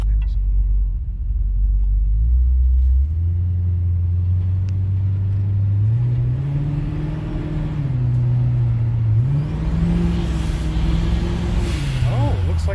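An old turbocharged truck that had sat unused, likely on stale gas, pulls away on the road with a loud low engine drone that climbs in pitch through several gear changes, heard from inside the cab.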